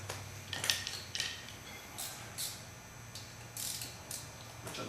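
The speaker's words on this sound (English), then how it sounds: "Turn the wheel and remove our caliper mount bolts," Ratchet clicks and metallic creaks come from removing 14mm front brake caliper mount bolts on a fleet vehicle, in short repeated bursts with pauses between, fairly faint against a low steady hum.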